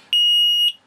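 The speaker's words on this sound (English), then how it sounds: "it's got a very, very loud beeper on it, so again, it could be used in noisy environments" An MSA Fivestar personal gas alarm gives one loud, piercing, steady electronic beep lasting about half a second, close and alone with no talking.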